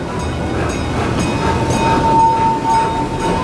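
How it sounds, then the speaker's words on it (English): Roller coaster trains at Busch Gardens Williamsburg rumble past continuously with a steady rolling roar, a faint high squeal rising partway through, loud and close with no voices. "Trains coming through."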